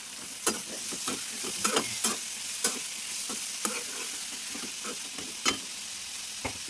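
Cucumber pieces tossed into a pan for a dried prawn and tomato curry, sizzling steadily while a spatula strikes and scrapes the pan in irregular, close knocks.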